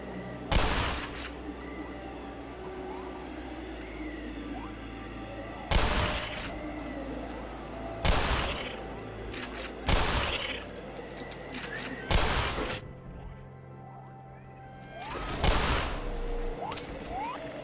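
Single gunshots from a weapon in the video game Black Mesa ring out one at a time, about every two seconds, loud and sharp against a low ambient game hum.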